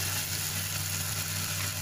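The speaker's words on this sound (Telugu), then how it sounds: "ఇప్పుడు టమాటా బాగా ఫ్రై అయిపోయిందండి." Tomatoes frying in a pan for dhaba-style mutton biryani, a dense, steady sizzle with a bubbling crackle heard close up, no voices.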